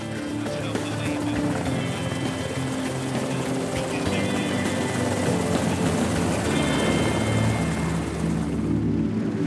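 A rescue helicopter on a Shetland search-and-rescue mission flies steadily overhead, its continuous rotor and engine roar loud and unbroken throughout, with a deep low drone beneath a broad wash of noise.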